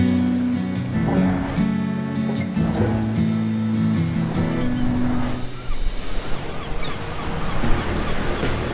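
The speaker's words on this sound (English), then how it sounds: "I would love to take you on a boat ride" A motorboat engine drones steadily with tonal humming on a lake, then water rushes and splashes as the boat picks up speed.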